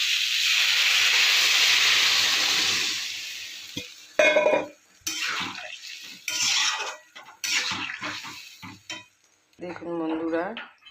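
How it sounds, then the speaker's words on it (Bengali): Hot water is poured into fried potatoes, eggplant and papaya in a pan for a fish curry. A loud, steady steam hiss lasts several seconds, then gives way to clattering utensils and a brief voice. "গরম জল দিয়ে দিচ্ছি।"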